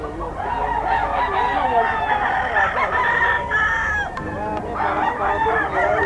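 Several roosters crow and cluck close by, calls overlapping one after another against a busy background.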